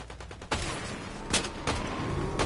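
A rapid burst of gunfire in the video game Fortnite, with sharp shots fired in quick succession, then louder isolated blasts that sound close by, heard alone with no talking.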